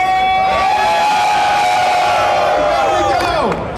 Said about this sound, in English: if you're cheering for Pokimane, let me hear some noise